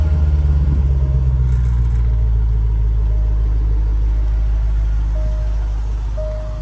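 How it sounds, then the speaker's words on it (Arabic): A 2014 Range Rover with an aftermarket catback exhaust idles with a deep, steady low rumble, loud and close, holding an even drone throughout. "هذا الصوت صوت الكتباك اللي مركب حق الاس في او"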